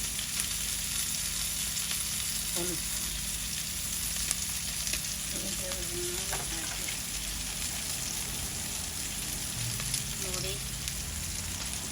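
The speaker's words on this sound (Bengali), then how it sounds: "এই আমাদের পেঁয়াজ দাদি গেছে এখন হলুদ মরিচ দেওয়া হয়েছে" Onions fry with turmeric and chili in a pan for a surma fish, eggplant and potato curry, giving a constant close crackling sizzle with faint voices in the background.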